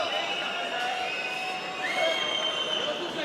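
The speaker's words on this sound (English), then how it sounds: "For the first time in this arena, we got boos" Arena crowd at a mixed martial arts fight between Makhmud Muradov and Scott Askham, a broad sustained roar of booing and noise from the stands filling the space, steady and fairly loud throughout.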